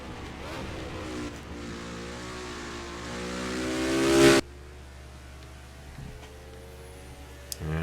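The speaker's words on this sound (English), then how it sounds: "coming across the line for Hubert in the number 15 machine" Race car in the NASCAR Racing 2003 video game on a Montreal road course, a high engine whine climbing in pitch and loudness as it crosses the line, then cutting off sharply to quiet background hum.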